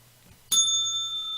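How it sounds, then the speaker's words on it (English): A single bicycle-style bell strike rings out sharply and then sustains a clear, slowly fading metallic tone over a quiet, low hum. "that bell's for you"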